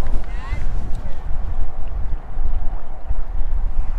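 Wind gusting over a lake during fishing, a loud, rumbling buffet of wind noise across the microphone that fills the whole moment with no talk.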